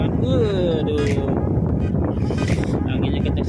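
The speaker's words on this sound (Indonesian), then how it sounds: "Anginnya kencang sekali" Strong wind buffets a crew boat at sea, producing a constant, loud roar of wind noise against the microphone throughout, with water and hull sounds underneath.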